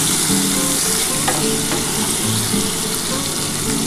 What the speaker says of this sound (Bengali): আর একটু আলুগুলো একটু লাল লাল করে ভেজে নেবো বন্ধুরা